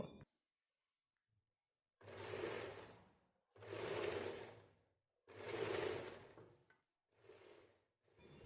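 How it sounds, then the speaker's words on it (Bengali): A sewing machine stitches the sleeve of a kameez in four separate runs, each a steady mechanical whir lasting a second or two, with short pauses between them and a brief fifth burst at the end. "প্রথম হাতাটার মতো এই হাতাটাও কিন্তু আমি একইভাবে সেলাই করে নেব"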